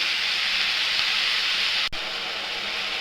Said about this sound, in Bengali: এখানে আছে আলু, টমেটো আর এই যে লোকাল বেগুন দিয়ে দিলাম। একসাথে ভাজা করব।